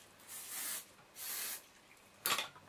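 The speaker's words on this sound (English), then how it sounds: "give your hair a good spray with hairspray" Hairspray sprayed onto curled hair, three short hissing bursts from an aerosol can, the first two longer and even, the last a sharper, brief spurt, close and fairly soft.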